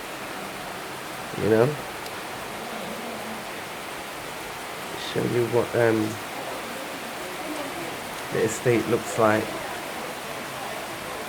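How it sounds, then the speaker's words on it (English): Heavy rain at the start of the rainy season in Gambia pours down in a dense, constant roar across an estate garden, with someone talking intermittently over it. "it's really raining, I thought I'd come and capture it for you"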